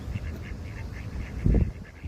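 Ducks on open water give repeated nasal quacks in a loose rhythm over a steady background, with a louder low burst near the end.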